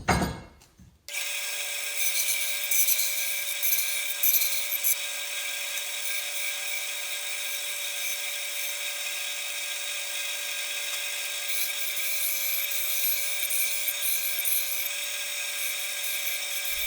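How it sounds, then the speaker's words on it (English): Bandsaw cutting through scrap wood in a home workshop: a steady, bright whining rasp holds evenly after a brief thud at the start, running close and continuous with no voices. "while you're watching me making these cuts on the bandsaw"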